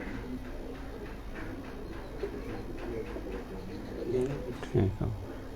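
Teddy Ferozpuri pigeons coo softly in the background, a low rolling murmur with a louder coo near the end, while people talk nearby.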